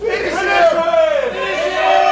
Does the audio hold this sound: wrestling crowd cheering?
yes